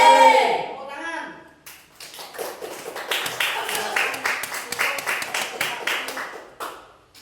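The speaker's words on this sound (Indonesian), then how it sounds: "Tepuk tangan." A small group claps in a classroom, ragged close handclaps for several seconds after a voice speaks at the start, then tapering off.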